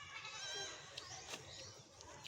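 A goat bleats in a series of quavering calls, fairly close but quiet, the wavering cries rising and falling over a few seconds with faint background noise and no speech.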